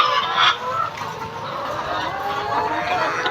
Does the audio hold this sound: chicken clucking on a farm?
yes